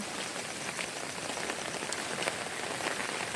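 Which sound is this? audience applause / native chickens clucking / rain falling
rain falling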